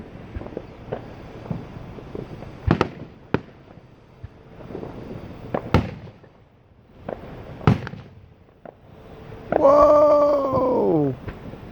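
During a fireworks show that goes wrong with a huge fireball, several sharp booms go off a few seconds apart with rustling wind between them. Near the end a voice lets out a long, falling cry.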